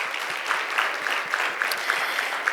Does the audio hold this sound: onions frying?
no